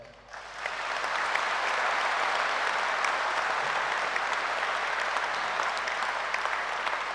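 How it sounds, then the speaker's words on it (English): A graduation ceremony audience breaks into loud, continuous applause that swells within the first second and holds steady as a dense crowd of clapping hands. "please, give yourself the loudest applause for your strength, your journey, and the recognition that you deserve."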